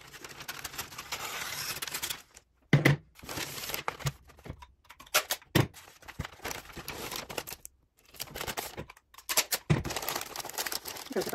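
Wrapping paper for Christmas presents crinkles and rustles close by as it is handled and cut with scissors, in irregular bursts broken by short quiet gaps and a few sharp snips or creases.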